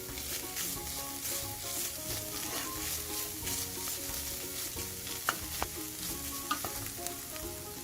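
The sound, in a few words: stirring spices frying in a pan for potato lasagna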